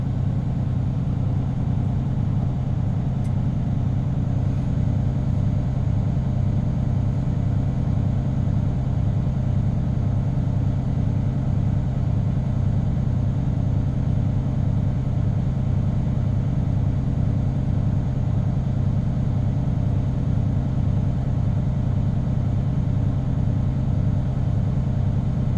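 A truck engine idles steadily, held at raised revs while waiting for the governor to kick in, a constant close droning rumble with no voices.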